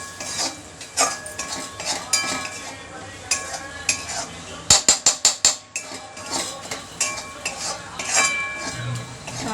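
A spoon works through a spice masala mixture, producing repeated scraping and clinking against the pan, with a quick run of sharp metallic taps in the middle and a faint sizzle underneath.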